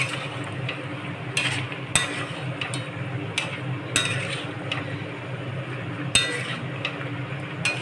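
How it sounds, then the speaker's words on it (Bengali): Meat is cooked slowly in a pan over a lowered gas flame, with a soft steady sizzle beneath scattered clinks and scrapes of a utensil stirring against the pan. "গ্যাসের ফ্লেমটাকে কমিয়ে দিয়ে এবার মাংসটা আস্তে আস্তে আমি কষাবো।"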